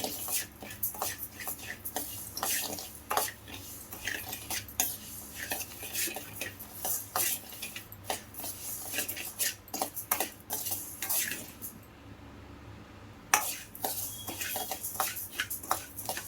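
Rice dry-roasting in a pan for homemade sambar powder, with a spoon repeatedly scraping and clinking against the metal and grains rattling, in an irregular rhythm, close and moderately loud.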